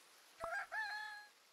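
A rooster crows once in the video game Super Auto Pets, a short synthesized cock-a-doodle-doo with a brief opening note and a longer held call, clear and alone.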